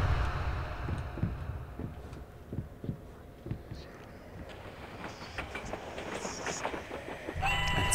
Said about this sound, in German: Ein Zug?